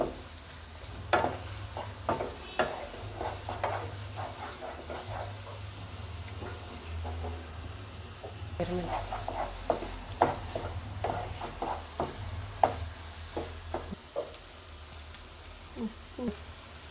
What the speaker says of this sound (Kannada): ಮೊಟ್ಟೆ ಹಾಕಿದ ತಕ್ಷಣ ಚೆನ್ನಾಗಿ ಮಿಕ್ಸ್ ಮಾಡ್ಕೋಬೇಕು